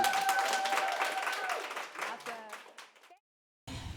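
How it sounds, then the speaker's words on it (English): A live audience at a New Orleans panel event claps and applauds steadily, a dense wash of hand claps that thins out and cuts off, then resumes briefly after a gap of silence. "give it up for our guests, Anthony and Essay, y'all"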